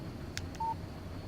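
A short electronic text-message alert from a phone in the video game Alan Wake: a brief clean tone with a couple of faint clicks, heard alone over quiet background hum.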